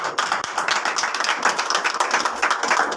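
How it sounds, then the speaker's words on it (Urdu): A church congregation at a Sunday service breaks into loud, sustained applause, with dense overlapping claps filling the room continuously from start to finish. "زوردار تالیاں اس کے لیے لگائیں گے۔"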